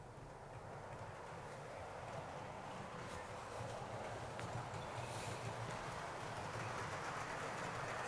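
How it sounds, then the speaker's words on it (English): A model railway's Warship passenger train starts off on the Chadwick Model Railway layout, giving a steady broadband rumble and hiss that builds slightly and runs unbroken throughout, close and moderately loud, with no talk. "now the first thing we do is we trigger the warship passenger train"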